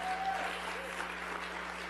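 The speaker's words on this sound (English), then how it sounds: "Give Brent a well-deserved round of applause" Audience clapping for Brent Wilkes, LULAC executive director, at the 2013 LULAC National Convention, a soft, distant, even patter of many hands in a large hall, with no voices.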